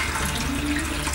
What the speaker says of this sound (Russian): Вот так у нас бежит вода горячая.